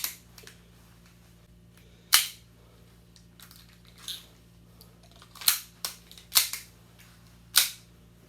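A WeTech airsoft Makarov pistol fitted with a suppressor firing single sharp snapping shots, about eight spaced irregularly over a quiet low hum, each crisp and close.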